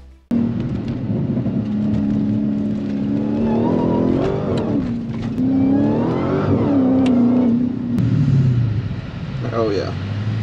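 A Dodge Hellcat on a race track, its loud engine rising and falling as it accelerates and shifts, heard from inside the car with voices talking over the roar.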